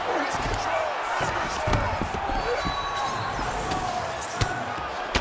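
Ground-and-pound strikes land in UFC 5 during a Tsarukyan vs Pimblett fight, producing a few dull thuds and slaps over a steady crowd roar, with a sharper hit near the end.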